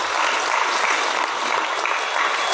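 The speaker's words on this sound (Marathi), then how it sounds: "आपण त्याचं टाळ्या वाजून स्वागतही करूया" A seated crowd at a sannyas initiation ceremony claps in welcome, dense even applause filling the whole stretch at a loud, steady level.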